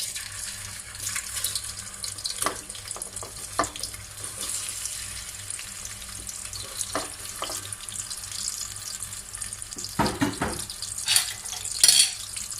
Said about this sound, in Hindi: ऑयल हमारा गर्म हो चुका है, अभी प्याज डाल देंगे इसमें।